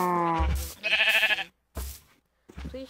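Sheep in the video game Minecraft bleat in several close, loud calls, a long wavering cry followed by shorter bleats separated by brief silences.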